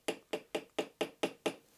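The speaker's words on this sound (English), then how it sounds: "So here I'm punching where I want to start the hole." Seven sharp, evenly spaced metallic strikes of a hammer on a center punch against a Honda CRF300L motorcycle handlebar at a workbench, close and loud with quick decays and no talk.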